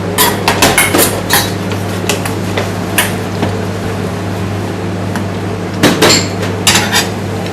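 Plates and cutlery clatter repeatedly while a salmon salad with pistachios is arranged on a dish. Sharp, close clinks and knocks come in irregular clusters over a steady low hum, with no talking.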